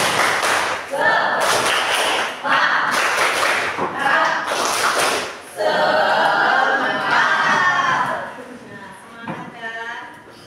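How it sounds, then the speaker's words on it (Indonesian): A school class performs the tepuk semangat chant, bursts of rhythmic group clapping alternating with chanted voices, loud and close, ending with children's voices trailing off. "Yuk mulai, tepuk semangat"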